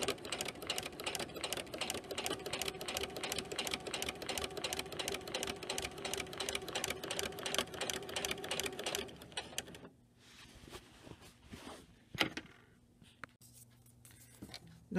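A sewing machine quilts fabric at a steady fast rhythmic chatter for about nine seconds, then stops, leaving scattered clicks and a few handling knocks over a faint hum.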